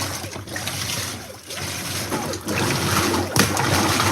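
A modern washing machine, similar to the Fisher Paykel and Whirlpool Cabrio designs, runs with a steady, loud motor hum blended with churning, sloshing water, with no talk.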